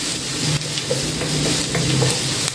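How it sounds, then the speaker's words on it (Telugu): Golden-fried onions with a spoonful of ginger garlic paste sizzle steadily in a pan while a spoon stirs through them, scraping softly at intervals; close and continuous, with no voices. "ఆనియన్స్ గోల్డ్ కలర్లో ఫ్రై అయిన తర్వాత 1 స్పూన్ అల్లం వెల్లుల్లి పేస్ట్ వేసుకోవాలి"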